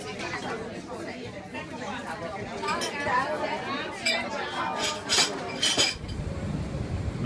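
Morning chatter in a Venetian espresso bar, with repeated clinks of cups, saucers and cutlery scattered through a steady murmur of voices and a brief hiss near the end.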